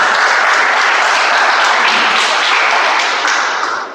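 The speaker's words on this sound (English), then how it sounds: "Can we do a better round of applause for him" An audience at a Toastmasters meeting gives a Toastmaster a loud, dense round of applause, many hands clapping together close by before it tapers off at the end.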